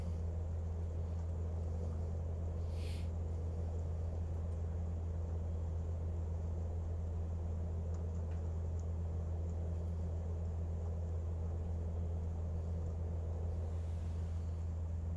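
An aircraft engine runs in Microsoft Flight Simulator with a steady, even drone. The low, constant rumble and hiss holds through the whole stretch, with a brief faint higher tick near the start and no talk.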